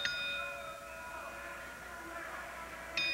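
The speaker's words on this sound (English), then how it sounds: "Referee Randy Eller still calling for the bell" A wrestling ring bell gives a sharp ding at the start with a ringing tone that decays slowly, then another clang near the end over crowd noise at a pro wrestling match that ends in disqualification.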